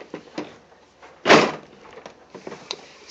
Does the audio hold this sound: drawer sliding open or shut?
yes